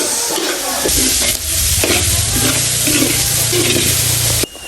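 Sauce ingredients sauté in hot oil in a pan, a loud, close sizzle with scraping stir strokes throughout, ending in an abrupt cut; nobody speaks.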